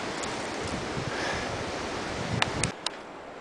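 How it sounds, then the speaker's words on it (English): A mountain stream on a Yosemite trail gives a steady, broad rushing wash of flowing water, with a few brief clicks and knocks near the end and no talking. "You can hear the beautiful sound of the streams."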